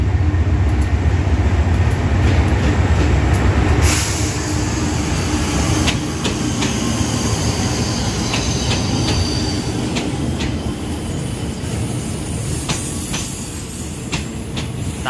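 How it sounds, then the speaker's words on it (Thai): Express train 83 hauled by locomotive GA 4538 passing close by on the Thai State Railway, a steady loud roar of rolling wagons with rhythmic wheel clatter and occasional squeals throughout. "GA 4538ทำขบวนครับรถด่วน83ในเช้านี้ใช้เป็น GA"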